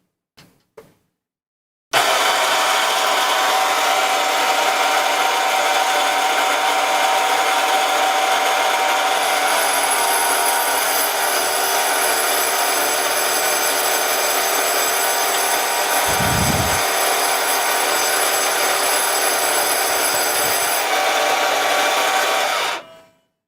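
A Proxxon KGS 80 saw cuts through a square 360 brass rod, starting abruptly after a couple of faint clicks and holding a loud, steady, high-pitched whine with a metallic edge for about twenty seconds before stopping.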